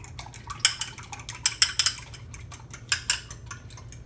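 A fork whisks two eggs in a bowl, quick uneven clinks and taps of metal against the bowl, close and clear with quiet gaps between bursts.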